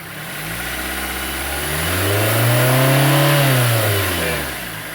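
Fiat Fire 1.0 car engine with a strange noise revs up from idle and falls back, its harmonics rising then dropping over a few seconds, loud and close with no talk.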